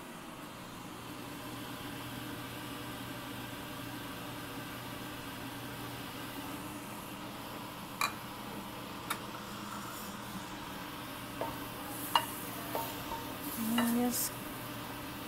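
Chicken and shrimp fried rice with soy sauce sizzles steadily in a pan, a constant close frying hiss, with a few light utensil clinks near the end and a brief spoken voice.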